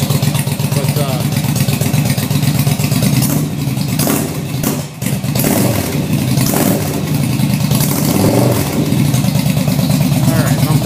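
A cold Yamaha V Star motorcycle engine idles loud and close with a steady, lumpy low throb, briefly dipping midway before settling back into its uneven rumble.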